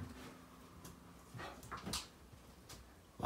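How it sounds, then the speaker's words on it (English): A dog gives a few short, faint whimpers and yips in scattered bursts against a quiet background, with no steady barking. "You're always barking."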